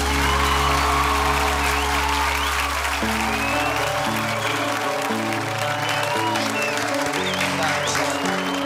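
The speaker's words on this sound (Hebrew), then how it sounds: "מחיאות כפיים לניב ולמיכל!" Loud, sustained audience applause with scattered cheers fills a singing-competition studio after a duet by two singers, while music rings out and fades beneath the clapping.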